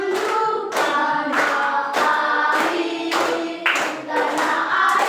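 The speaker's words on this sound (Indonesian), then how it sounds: "Oke, tepuk tangan dulu." Students in a Class V classroom clap their hands together in quick, loud bursts, with several short waves of applause that rise and dip before continuing, close and without talk.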